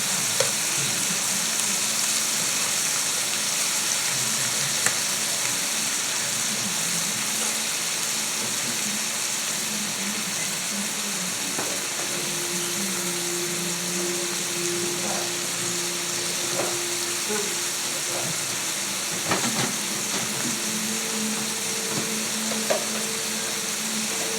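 Salmon sears in a hot pan for teriyaki glazed salmon, a loud, steady, close sizzle that holds throughout with a few faint clinks and stirring noises over it.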